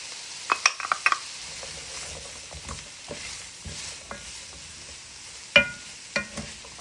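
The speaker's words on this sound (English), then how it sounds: "Let this saute for a little while" Garlic sautés in a pot for a soup, a faint steady sizzle under scattered clinks and scrapes of a utensil stirring against the pot.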